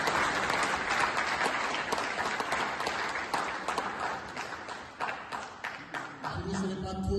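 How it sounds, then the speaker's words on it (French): A crowd applauds a minister at a French-speaking gathering, loud sustained clapping mixed with cheers that thins toward the end as the noise shifts. "Donc je vous demande de l'acclamer et de l'applaudir."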